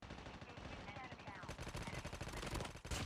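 Gunfire in the video game Call of Duty Battle Royale during squad play. A steady rush of game noise gives way to rapid automatic bursts of loud, close shots in quick succession.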